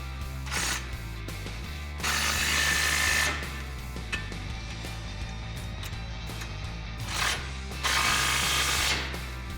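A ratchet clicking in bursts as an 18mm socket tightens bolts on a front bumper bracket over the frame rail of a 2007-2013 Chevrolet Silverado 1500, with repeated pawl clicks and brief louder spells, close up with no talk.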